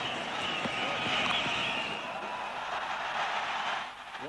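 Large cricket stadium crowd at a Pakistan versus England match in Karachi, a broad continuous roar of many voices reacting to the big screen, distant and sustained, dipping near the end.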